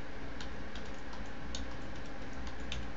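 Steady, close typing of program code on a computer keyboard, light regular clicks running throughout at an even pace over a constant background hiss, with no voices.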